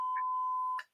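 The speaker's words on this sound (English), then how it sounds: "I heard that beeping sound" A single steady tone of just under a second from a radio show's beep button, clean and sustained, with a short click near the start and another as it cuts off.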